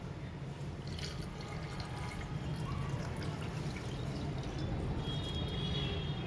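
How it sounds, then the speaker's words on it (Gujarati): Water poured into a pot holding jaggery and tamarind for a sweet samosa chutney, a steady close splashing pour running throughout with no talk. "અને આપણે 400-500 ગ્રામ પાણી નાખી દઈએ।"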